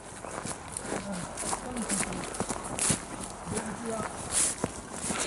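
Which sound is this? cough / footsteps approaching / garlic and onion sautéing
footsteps approaching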